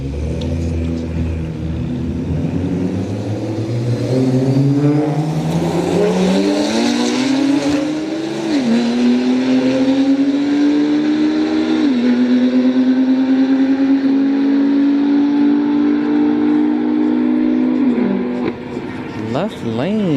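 Street-night drag racing cars launch and accelerate down the strip at Orlando Speed World, a loud roaring engine climbing in pitch through several gear shifts, nearby and dominant, crowd and track noise underneath.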